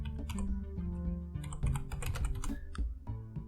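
Keys clatter on a computer keyboard during a Linux install, a close, continuous run of quick taps and clicks with no pauses or talk.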